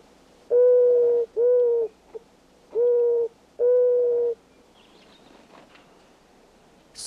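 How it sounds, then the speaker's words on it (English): Mourning dove cooing: four separate, clear mellow coos in a slow steady rhythm, each about a second long, close and prominent against a quiet background with faint bird chirps after. "The mourning dove has a gentle call"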